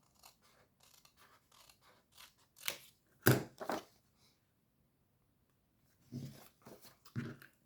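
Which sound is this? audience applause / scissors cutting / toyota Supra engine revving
scissors cutting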